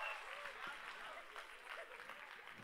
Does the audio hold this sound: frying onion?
no